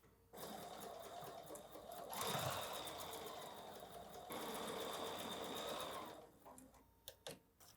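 A sewing machine runs steadily, stitching a quilt block seam for a wall hanging, with a brief pause and restart midway and a few quiet clicks as it stops near the end.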